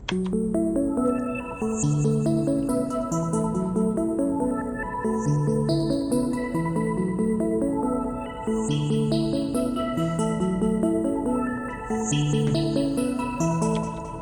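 A looping synth arpeggio with echo, chorus and slight distortion, bright repeating notes over a steady bed, continuous and fairly loud.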